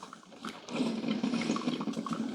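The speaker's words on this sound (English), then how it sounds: "we're done brewing that 8 cups of vinegar and water through." Gourmia 12-cup grind and brew coffee maker running a descaling cycle of vinegar and water, giving a steady close gurgling, hissing flow of liquid that swells after the first moment and holds for the rest.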